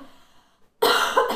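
A woman's single burst of harsh, close coughing breaks after a short quiet pause and trails off into throat-clearing rasps.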